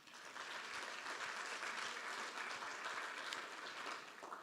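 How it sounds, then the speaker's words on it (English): Sustained applause from a conference audience at an event on an EU strategy for coastal communities, a steady dense patter of many hands clapping without pause, moderately loud and even throughout. "So a big round of applause for them."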